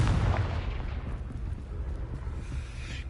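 A Confringo fire spell bursts with a loud low boom in Hogwarts Legacy, the blast rumbling and fading over a few seconds with no talk.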